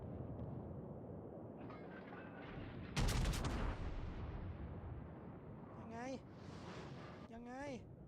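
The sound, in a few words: naval gunfire in the video game World of Warships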